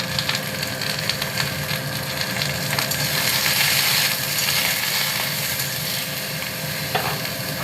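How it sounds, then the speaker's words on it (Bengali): Flat green beans fry in hot oil with salt and turmeric, giving a steady, loud crackling sizzle with occasional scraping stirs throughout and no talk. "সিম আমার ভাজা ভাজা হয়ে গেছে"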